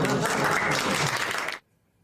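Audience applause rings out loud and dense for about a second and a half, then cuts off abruptly into silence.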